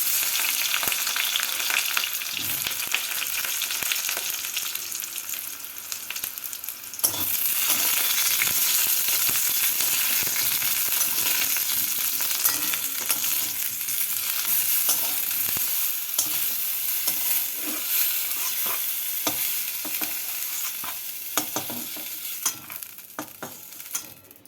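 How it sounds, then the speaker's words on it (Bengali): Steady oil sizzle from eggplant frying fills the whole stretch, with occasional scraping stirs and clinks from a utensil against the pan, no talking. "বেগুনগুলোকে আগে ভেজে নিচ্ছি"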